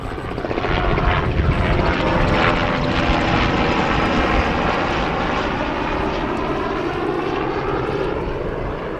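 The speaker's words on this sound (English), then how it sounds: "Someone must be doing a helicopter tour today." A helicopter on a sightseeing tour passes over El Questro Station in the Kimberley outback, a steady, loud rotor and engine roar that holds for the whole stretch with no talking.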